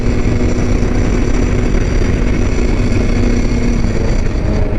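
A K-swapped Mazda Miata at full throttle on the Road Atlanta circuit gives a loud, constant engine roar with wind and road noise throughout, heard close from inside the car with no talk.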